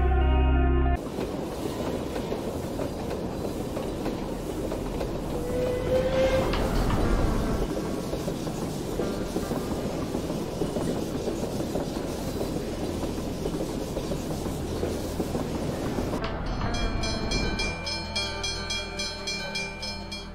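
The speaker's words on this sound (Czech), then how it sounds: "No, tak někam jsme dorazili vláčkem, někam na divoký západ." A steam train rolls along in a Wild West setting in Cowboy Life Simulator, a loud, steady rumble with rhythmic clickety-clack of the wagons for about fifteen seconds before it gives way to quieter sounds, with no speech.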